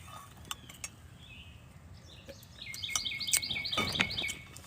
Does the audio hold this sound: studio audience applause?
no